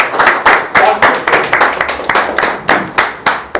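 Seminar audience in Sunder Nagar, Himachal Pradesh clapping in distinct, loud, rhythmic unison, with about eight sharp claps per second and no talking.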